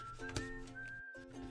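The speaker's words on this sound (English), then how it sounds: "Just listen to some whistling music that hopefully doesn't get a copyright strike." Whistled tune played as background music during a chilled drawing stream, steady sustained notes in a clear melody with brief gaps, fairly soft and alone.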